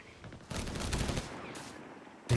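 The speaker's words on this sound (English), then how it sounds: "Boosting up the rate of fire on that barrage." An artillery barrage firing in Company of Heroes 3, heard as a sustained rumbling volley of blasts that swells after a quiet start and holds steady, with no talk over it.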